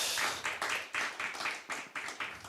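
A church audience applauds together during a fellowship worship service, a steady burst of clapping that holds for a couple of seconds and swells in repeated waves.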